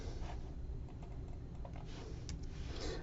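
Quiet typing on a Mac computer keyboard: soft, scattered key clicks over a low background hum, with a few sharper taps near the end and nobody speaking.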